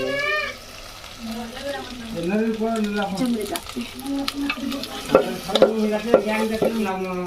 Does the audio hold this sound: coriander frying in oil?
yes